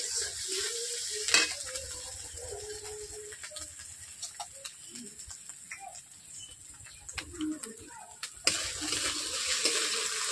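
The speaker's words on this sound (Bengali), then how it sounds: "আদা রসুনের কাঁচা গন্ধটাকে আমি ভেজে নিচ্ছি ভালো করে" Ginger and garlic fry in a pan for a Bangladeshi-style pangas fish dish, a quiet sizzle broken by occasional spatula scrapes and louder clanks; no one speaks.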